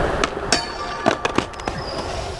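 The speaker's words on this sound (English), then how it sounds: "Why you bang the wall?" Child banging on a wall indoors with a series of sharp, irregular thumps and knocks, close and fairly loud, some in quick clusters.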